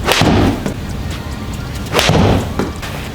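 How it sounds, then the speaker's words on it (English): A golf club strikes golf balls on the center of a worn face during a long session of repeated hits, two sharp, loud cracks about a second and a half apart, each followed by a fading tail, with no voices. "I'm hitting the center of the face."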